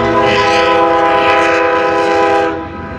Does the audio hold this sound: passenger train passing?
yes